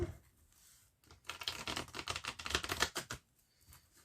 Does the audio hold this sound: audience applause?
no